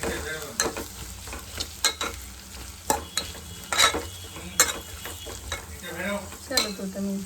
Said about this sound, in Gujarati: હવે આપણે કંકોડાને મિક્સ કરી લઈએ